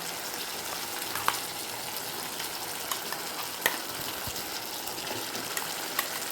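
Ladies finger pachadi sautéing in a hot pan, giving a steady, close sizzle and frying hiss with a few faint scrapes and clicks of stirring throughout.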